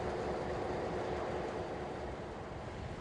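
Steady broadband rumble of a train passing close by at Jamestown, South Australia, a continuous roar with no voices, holding level throughout.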